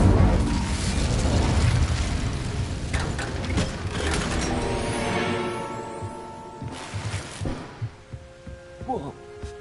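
A fire spell cast in Hogwarts Legacy erupts as a loud rumbling whoosh and crackle that slowly fades into a softer hum, followed by scattered thumps and small magical chimes near the end.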